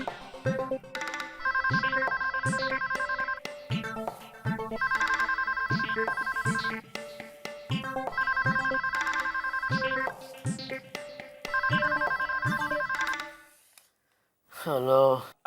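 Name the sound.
telephone ringing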